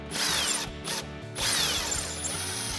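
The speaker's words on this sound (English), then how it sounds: "So we got our 21 mil socket on our impact." An impact wrench with a 21 mm socket loosens a rear body bolt on a 2019-2025 RAM 1500 pickup truck, a loud close rattling, ratcheting whir in bursts with short gaps between them.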